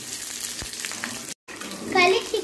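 Chopped onions hit hot oil in a pan during a drumstick masala cook, bursting into a loud crackling sizzle up close after a brief moment of quiet.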